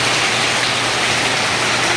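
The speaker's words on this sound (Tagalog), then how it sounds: "Ang lakas ng ulan." Heavy rain pours steadily as a dense, even hiss with no pauses, loud and close throughout, with no voices.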